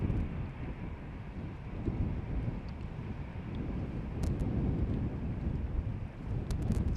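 Steady, blustery wind at Amsterdam Schiphol Airport buffets the microphone with a constant low roar and gusty rumble, without let-up for several seconds.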